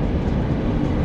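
A passenger train, the Bandra–Jhansi express 22196, rumbles along at a steady loud level with a continuous dense roar.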